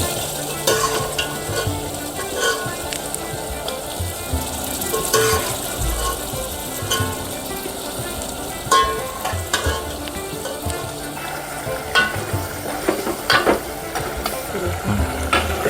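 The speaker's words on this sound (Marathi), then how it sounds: "तेलामध्ये शिजू देऊ थोडं फ्राय होऊ देऊ" Boiled mutton pieces fry in a thick masala, a continuous sizzle broken by repeated stirring scrapes and clinks of a spoon against the pan.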